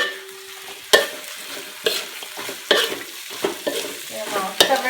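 Young bamboo shoots stirred in a pot for soup, a run of close scraping, clattering stirs with light sizzling between them and no talking.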